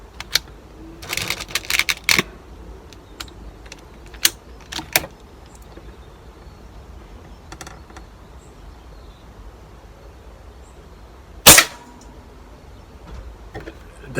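A single sharp, loud rifle shot fired at a target while zeroing cracks out once amid a quiet stretch, preceded by scattered small clicks and handling noises.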